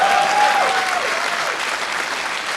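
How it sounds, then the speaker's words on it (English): An audience at a StarCraft 2 esports event applauding, a dense burst of clapping that starts strong and gradually tapers over a couple of seconds. "we can give him a round of applause for that."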